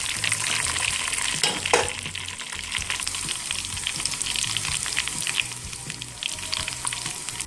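Chopped ingredients, including onion, fry and brown in a pan on a home stove, a loud continuous crackling sizzle close by with occasional stirring, and no one talking.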